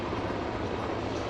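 A Korea Forest Service firefighting helicopter descends slowly toward the water with its bucket lowered, producing a loud, continuous rotor and engine roar.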